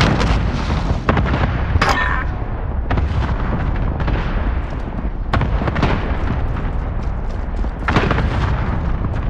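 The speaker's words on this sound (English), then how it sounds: "Allied cluster strike inbound." Cluster strike explosions in Call of Duty: Modern Warfare rain down as a rapid, loud string of booming blasts and cracks, close and overlapping like an artillery barrage.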